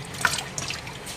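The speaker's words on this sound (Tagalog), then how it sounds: "papakulo ko ng tubig" Tap water trickling and dripping into a kettle in a home kitchen, a brief, faint splashing with small drips close by.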